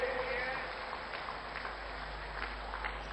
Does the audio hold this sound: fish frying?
no